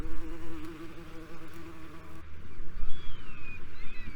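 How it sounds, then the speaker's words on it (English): Bees buzz among wildflowers on a rocky Isle of Skye shoreline, a steady close droning hum that wavers in pitch, with wind and outdoor ambience behind it and no voices. "Bees need to work quickly to gather in as much pollen as possible"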